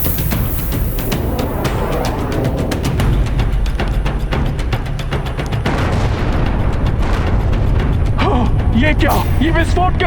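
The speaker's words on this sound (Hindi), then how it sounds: "ये क्या, ये विस्फोट कैसा?" Booming explosions rumble and crash in a mythological Hindi drama about Hanuman and Lanka, heavy and continuous over a dense, dramatic soundtrack.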